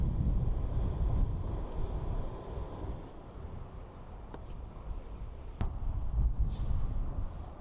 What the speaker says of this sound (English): Gosh, it is windy.